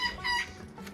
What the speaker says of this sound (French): C'est le petit coq Sabelpout ici qui essaie de chanter.